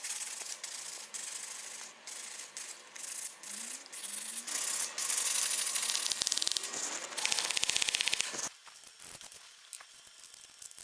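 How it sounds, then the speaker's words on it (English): Sandpaper of 120 grit rubs by hand over wood filler in nail holes, a steady scratchy rasp in repeated strokes, close and fairly loud, easing off toward the end. "After that initial sanding by hand with 120"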